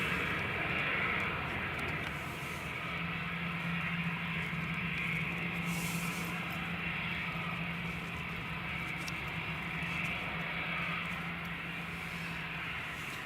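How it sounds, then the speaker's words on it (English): An EasyJet airliner approaches to land at Newcastle Airport during a storm, a steady distant engine drone and low hum blended with wind and rain noise, continuous with no voices. "Yeah, it's the EasyJet coming in."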